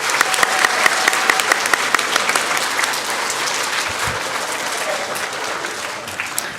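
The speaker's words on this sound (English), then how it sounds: "Let's give all of the award recipients one more round of applause." Sustained applause from a school audience for award recipients at a Bulldog Pride awards assembly, many hands clapping in a thick continuous wash that stays loud and tapers gently near the end.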